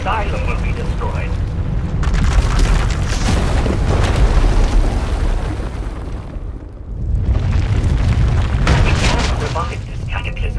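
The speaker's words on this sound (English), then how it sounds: "When it erupts, the entire asylum will be destroyed" Large eruption explosion in the video game Star Wars: The Old Republic, heavy rumbling booms and roaring blasts that stay loud for most of the clip, dip briefly, then surge again.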